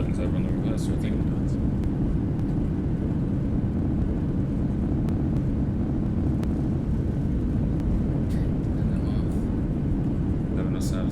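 An airliner lands with reverse thrust in X-Plane 11, a loud, constant low engine roar filling the cockpit while a voice speaks over it.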